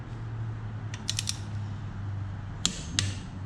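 A wrench works on the top end of a 2012 Kawasaki KX250F engine, making a few short metallic ratcheting clicks and taps over a steady low hum, close and fairly quiet.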